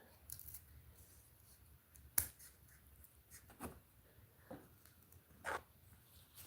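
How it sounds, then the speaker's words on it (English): Scissors snip through paper or craft material during an art therapy session, a few sharp, quiet cuts spaced out over a soft background with no talking. "Let's see if the scissors can get it before I pull out the big guns."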